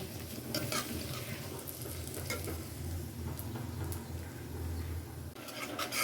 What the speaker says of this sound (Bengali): মাংসের জন্য পেঁয়াজ দিলাম এটাকে এখন ভেজে নেব